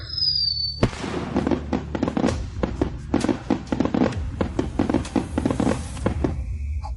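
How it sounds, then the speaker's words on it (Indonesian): Signal fireworks launch in a rapid series of sharp pops and bangs, one after another, irregular and fairly loud after a brief quiet start. "kau pergi menyalakan sinyal kembang api"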